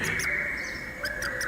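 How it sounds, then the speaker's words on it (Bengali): A koel calls somewhere outside at dusk as a story sound effect: a few short, bright chirping notes over a sustained tone, fairly faint and distant, with no voices. "বাইরে কোথায় যেন একটা কোকিল ডেকে উঠল।"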